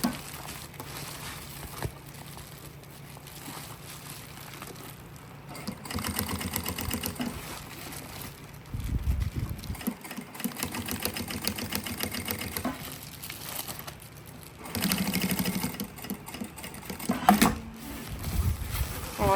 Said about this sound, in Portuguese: vai costurando até o outro lado